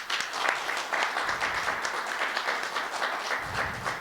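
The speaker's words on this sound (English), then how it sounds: "If we could give her a round of applause" Audience applause at a songwriters-in-the-round evening, a steady wash of many hands clapping together, full and close, sustained without pause and free of talk.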